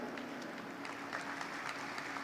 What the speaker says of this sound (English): give a applause for Novo Earth